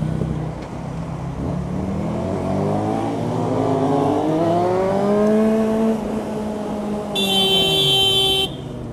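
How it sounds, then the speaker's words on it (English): A Suzuki GSX650F motorcycle in traffic, with engine revving that rises and falls, then a loud, sustained blast from its horn near the end. "I'm sort of banging on the horn pretty quickly."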